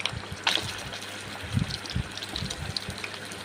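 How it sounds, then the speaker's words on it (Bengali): Chicken pieces are lowered one at a time into hot oil, making a steady close hiss and crackle with a few soft thuds as each piece goes in. "একটা করে ছেড়ে দিচ্ছি চিকেন গরম তেলে"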